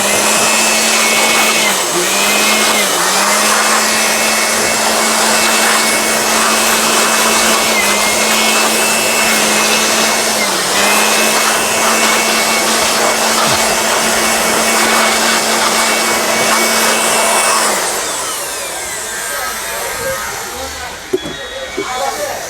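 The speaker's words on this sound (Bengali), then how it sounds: "এটাকে ব্লোয়ার মেশিন দিয়ে আমি আগে পরিষ্কার করে নেব" A blower machine cleaning dust off an inverter board for a 24-volt DC to 2000-watt AC build, a steady loud motorized whoosh running unbroken for most of the stretch before cutting off near the end, with faint handling noises after.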